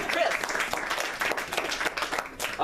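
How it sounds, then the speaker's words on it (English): Audience applause at a magic show, a steady wash of clapping with cheering voices mixed in, fairly loud and continuous throughout. "big round of applause for amazing Chris."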